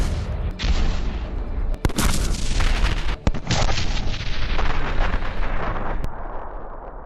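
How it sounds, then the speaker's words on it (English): An Abrams tank gun fires several heavy booming shots that roll out as long rumbling blasts, one after another, loud and with no talk. "A few shots from a high-precision gun can quickly eliminate the target and escape"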